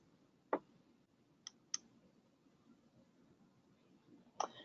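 Computer mouse clicks in booking software, four sharp isolated clicks spaced irregularly over a quiet background, close and faint.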